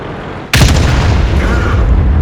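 A T49 tank's big gun fires in a tank video game, a single sudden loud blast followed by a sustained rumbling roar and echo, heard up close.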